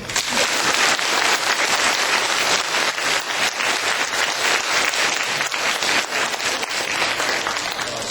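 Sustained applause from a large church congregation, steady dense clapping filling the whole stretch without pause.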